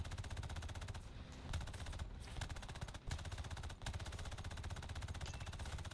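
Sustained machine-gun fire from biplanes in a video game, rapid continuous bursts with only brief gaps, loud and dense throughout.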